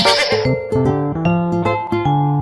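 A goat lets out one loud, wavering bleat at the start, then a light, bouncy backing melody carries on alone.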